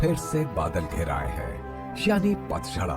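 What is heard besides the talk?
No everyday noises stand out.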